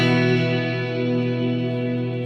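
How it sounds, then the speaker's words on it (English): A sustained electric guitar chord rings out through a Mooer Ocean Machine reverb pedal, its tone thick and shimmering, slowly fading with a long wash of decay. "if I turn the reverb on for a moment, and we can have a play there."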